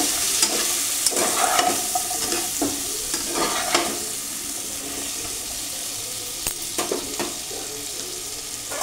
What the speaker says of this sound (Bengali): আর দেবো হলুদ। এটাকে মিক্স করে নেব।